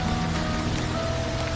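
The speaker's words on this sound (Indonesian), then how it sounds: "rintik hujan itu semakin lebat" Heavy rain falling steadily with a dense, even hiss and patter, constant and fairly loud throughout with no voices, a faint steady hum running beneath it.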